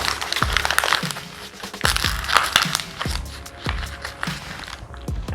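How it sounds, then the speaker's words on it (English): A sheet of paper is crumpled by hand up close, a run of sharp crackling crunches in an uneven rhythm over several seconds, with no speech. "Crumble the paper."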